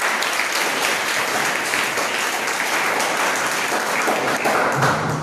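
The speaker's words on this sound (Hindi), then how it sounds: "ताली बजाना जोरदार।" Loud, dense audience applause at a school event on mental health and careers, sustained and even from many hands, with a few heavier thumps near the end and no talk over it.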